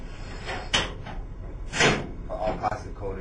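Drawers on a Midmark Ritter 204 manual exam table slide open and shut, giving a few short knocking and sliding bumps at close range while someone talks over them.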